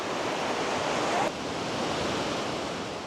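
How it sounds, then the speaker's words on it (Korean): Small waterfalls at Plitvice Lakes in Croatia stream in a row beside a wooden boardwalk, giving a steady, broad rushing roar of falling water, close and constant with no voices. "나무데크 옆에는 작은 폭포들이 줄을 지어 물줄기를 뿜어내고 있습니다."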